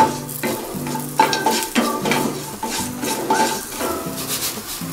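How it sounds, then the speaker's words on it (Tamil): Cashews frying with chili powder in a pan for a spicy rice mixture, a steady close sizzle broken by repeated scraping stirs of a utensil against the pan, with no talk. "கொஞ்சம் முந்திரி போட்டுக்கலாம்."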